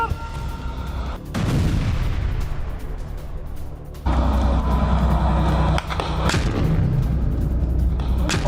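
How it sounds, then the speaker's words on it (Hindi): A mortar blast hits an Israeli tank in Gaza. Several loud, booming detonations and bursts sound close by, with sustained rumbling and crackling debris between them. "मोर्टार रखते ही वो टैंक कैसे उसमें ब्लास्ट हुआ"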